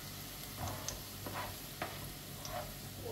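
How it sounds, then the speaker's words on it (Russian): Yellow bell pepper, turning brownish, fries quietly in a pan: a soft, steady sizzle marked by a few faint ticks and pops. "Я первый раз жарю желтый перец."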